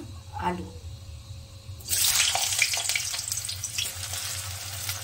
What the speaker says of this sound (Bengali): এবার আলুটা একটু লাল লাল করে ভেজে নেব।